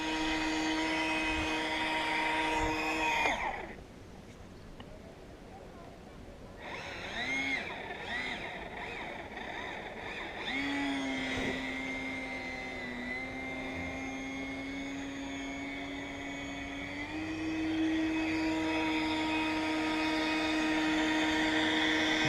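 Small electric motor of a Nikko Shockwave toy RC car whining steadily at low speed, a sustained buzzing hum that drops briefly, resumes, and shifts pitch a few times while running slowly.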